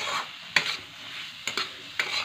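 Roasted peanuts stirred into a frying mixture in a pan for a wheat-flour snack, three quick spoon scrapes over a steady hiss of sizzling, close and without talk.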